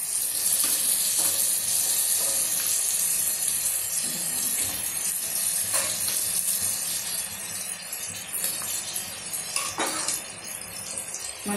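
Chicken pieces fry in oil in a pan with a steady bright sizzle and crackle, broken by occasional clinks of a utensil against the vessel, close and continuous at a moderate level.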